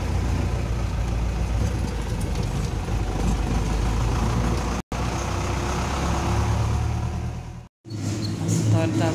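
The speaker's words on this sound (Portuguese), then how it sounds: "Olha a multidão de motos, gente, nessa rua" Dense motorcycle traffic on a street produces a steady, loud wash of engine rumble and idling, with brief cuts in the sound and a voice talking over the noise.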